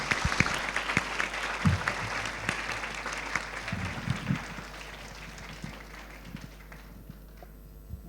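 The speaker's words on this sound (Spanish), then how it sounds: "yo les solicito un caluroso aplauso" Applause from a conference audience at a national congress of family judges in Pucón, scattered claps at first that thin out and taper off toward quiet, with a low steady hum beneath.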